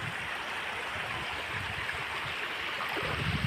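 Waist-deep floodwater flowing through an inundated village area, a faint continuous rushing and gurgling wash with no voices.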